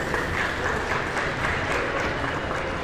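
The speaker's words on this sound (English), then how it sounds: "Big round of applause for Mr. Cameron Peraza." Sustained audience applause at a school senior recognition event streamed by a county sports network, a steady wash of clapping throughout with no clear voices.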